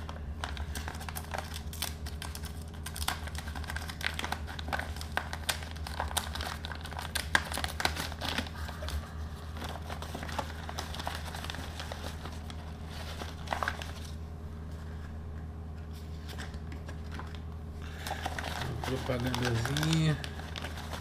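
Paper envelope being handled and crinkled up close during an unboxing, light rustles and crackles running steadily while someone speaks.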